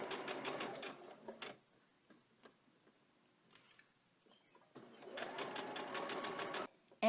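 A sewing machine stitches a summer dress in two steady runs, one at the start and one near the end, with quiet handling and faint clicks between them.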